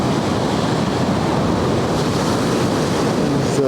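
Ocean surf from a storm surge rolls in near the Namib Desert dunes, a loud continuous roar of waves close by with wind buffeting the microphone throughout.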